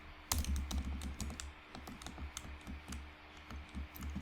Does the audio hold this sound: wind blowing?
no